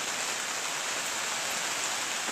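Steady rain falling on a cool, wet Labor Day, a continuous even hiss of drops that holds at the same level throughout with no voices over it.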